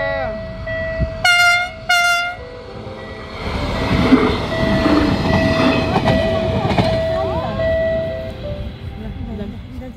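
A train rumbles past close by with a continuous rolling roar, preceded by two short horn blasts, while people talk over the noise.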